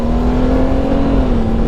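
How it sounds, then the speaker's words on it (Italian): Honda Gold Wing GL1800 2018 motorcycle engine running steadily and loud, with a sustained drone that dips slightly near the end as the rider shifts up through the gears. "Sentite le cambiate"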